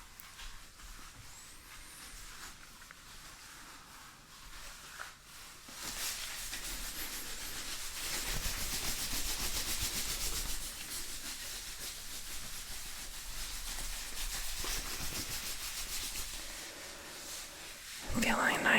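Gloved hands rub lotion in a simulated full-body massage. Close, continuous slick rubbing and smearing hiss rises and falls in slow strokes, soft and intimate, with no clear talk.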